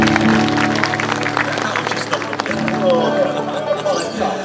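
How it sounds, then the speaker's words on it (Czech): An audience at a banjo festival claps in a dense, steady round of applause with some crowd chatter, loud and close, fading slightly toward the end. "Takže zatleskejte Martinovi Čechurovi, který to celý dal dohromady."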